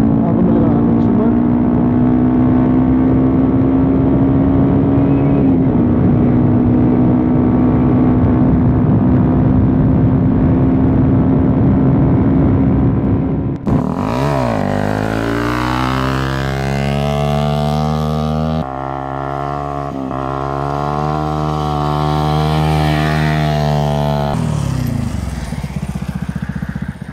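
A small motorcycle engine runs loud and close, holding a steady idle hum before climbing into sustained high revs with several sharp rises and dips, heard alone without talk.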